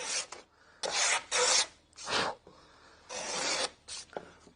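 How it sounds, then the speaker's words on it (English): A hand plane rasps across cedar end grain in a series of separate strokes, each a bright, scraping swish of about half a second to a second, with short quiet pauses between them and no voices. "You do get a slightly better finish by planing the correct way on end grain as well."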